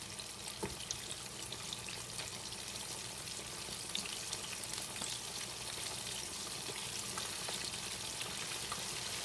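Chicken wings fry in oil in a pan on the stove, a steady soft sizzle and crackle with faint pops, continuous and close with no talking.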